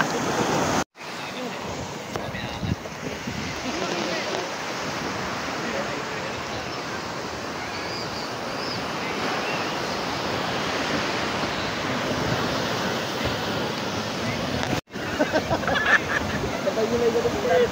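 Ocean waves wash steadily on the shore of Laos Island in Caramoan, a broad continuous surf roar with wind buffeting the microphone, while people chat nearby over it.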